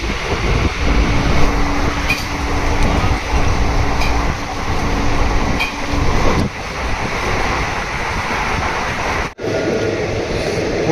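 A passenger train running from Kolkata toward Jhargram gives a steady, loud rumble of wheels and wind noise throughout, with brief rattles and a sudden dip near the end as if passing a structure.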